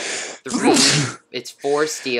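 A single loud sneeze bursts out close by, surrounded by someone talking before and after it.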